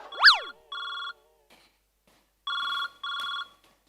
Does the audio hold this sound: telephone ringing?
yes